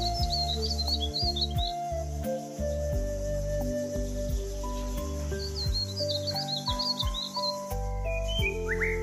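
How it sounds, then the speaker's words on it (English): A verditer flycatcher sings in two bursts of high, rapid chirping twitters, the first near the start and the second in the middle, both partly buried under loud, steady background music. "Verditer flycatcher."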